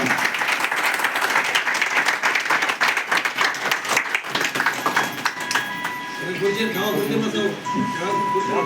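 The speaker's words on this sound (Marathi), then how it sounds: "नेवाळकर काका, जोरदार टाळ्या वाजवा" Clapping from the audience at a lifetime achievement award ceremony, loud, dense and continuous for several seconds before thinning out, with a voice speaking and a chiming tone sounding over the later part.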